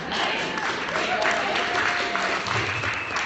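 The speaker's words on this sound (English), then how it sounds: "round of applause for you guys" Crowd at a gathering applauds steadily, a thick, even roar of many hands clapping at close range throughout.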